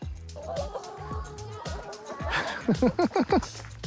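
Chickens close by, a run of clucks and fowl calls ending in a quick rhythmic burst of five or six loud squawks, with people talking softly underneath.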